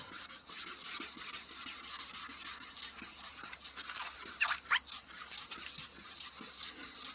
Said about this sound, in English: You just keep rubbing until you don't see that white residue anymore.